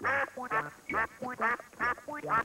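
Several voices imitate a duck quacking in a bouncy, rhythmic series of nasal 'quack' calls, about eight in quick succession, sung along during a children's animal-movement game to music.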